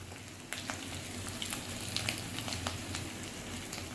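Ground spices, ginger paste, coriander and black pepper, sizzle and crackle in hot oil in a pan for vegetable biryani, stirred gently, with a close, continuous frying hiss and scattered spatter pops.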